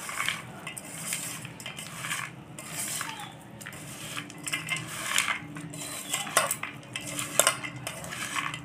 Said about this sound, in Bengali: এটা ভালো করে মাখিয়ে নেব।